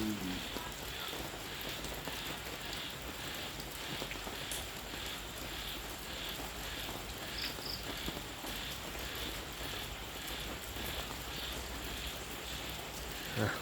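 Rain falls steadily as a soft, even hiss with scattered drop ticks, fairly quiet and constant throughout, alongside insect-like chirps and no voices.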